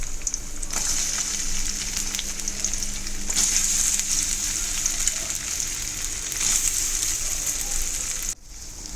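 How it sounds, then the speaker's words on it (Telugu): Potato pieces dropped into hot oil in a kadai, a steady loud crackling sizzle of frying that runs throughout, close up with no talking. "ఆయిల్ వేడెక్కిన తర్వాత మనం కట్ చేసి పెట్టుకున్న ఆలూ పీసెస్ అన్నీ వేసుకోండి"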